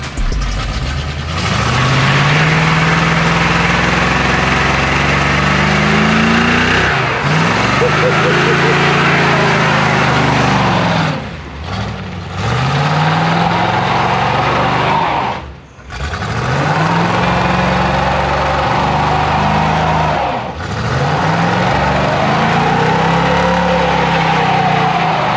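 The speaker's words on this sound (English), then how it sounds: "Just do a burnout first." Car engine revving hard through a burnout at an outdoor pop-up Labor Day car show, loud and sustained with repeated rising and falling rev sweeps and brief dips between pulls, with people talking nearby.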